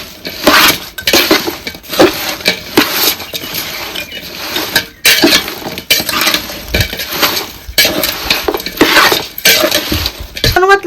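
A container of mango pickle coated in masala is shaken and turned on all sides, giving repeated rattling, clinking knocks of jar and contents, close and fairly loud, with brief pauses between bursts.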